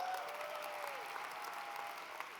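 An audience at the CHCI swearing-in ceremony and welcome reception applauds Secretary Cardona; a dense, even round of clapping heard at moderate distance, steady across the whole stretch.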